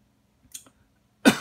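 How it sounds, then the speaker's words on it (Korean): A single short, close cough bursts out at the end after a near-silent pause and a couple of faint clicks. "제가 자꾸 기침이 나와서 죄송합니다"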